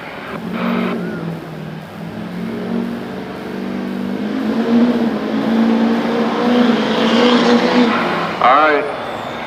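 Diesel pickups, an 04 Duramax in the near lane and a 12 Power Stroke in the far lane, roaring and building revs at an 8500 lb truck pulling competition, loud and continuous, with an announcer talking over the engines.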